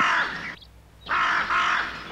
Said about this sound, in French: Je parle des corneilles.